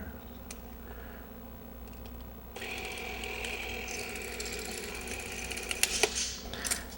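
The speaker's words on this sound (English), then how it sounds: "put the reel on the side of the camera and feed the film in here." Film being threaded into a Bolex camera mechanism: quiet ticking and clicking at first, then a steady whirring, ratcheting mechanical buzz with small clicks and knocks, close and moderately faint.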